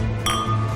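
Drinking glasses clink once in a toast, a brief bright chime that rings out over a low background hum.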